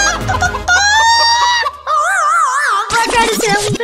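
Cartoonish chicken clucks and squawks from the video game Who's Your Daddy, loud and close, with a rising warbling cluck run followed by several quick sharp clucks, no talk over it.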